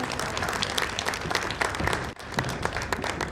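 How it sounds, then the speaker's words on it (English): An audience claps for the chief host at a pre-marital conference, a dense, loud, steady applause that continues without a break. "Is that how to clap for Excellency?"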